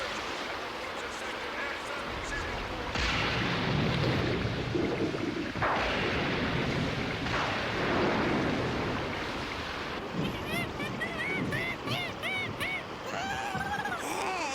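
Heavy rain roars as a dense, steady wash with rumbling surges in a Dragon Ball anime episode, loud and continuous, with faint high voice-like cries toward the end.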